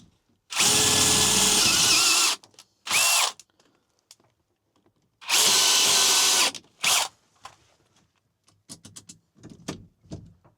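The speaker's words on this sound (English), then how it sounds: "Boy, that thing is drilling ridiculously easy." A power drill bores a 3/8-inch hole into an '86 Ford F250, running in two long loud bursts with short blips between, then quiet clinks and knocks of tool handling.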